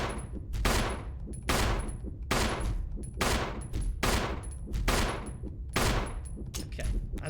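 Gunfire in the Resident Evil remake, a series of loud, sharp shots spaced roughly a second apart, each with a ringing tail, close and with no talking over it.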